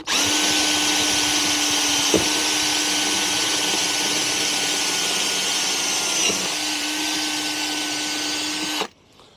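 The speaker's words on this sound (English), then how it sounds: "once you've drilled your holes, as you can see, there's 3 holes there" A power drill with a 3mm bit bores into a caravan door frame, a steady high electric whine held for about nine seconds with a couple of brief load dips before it cuts off abruptly.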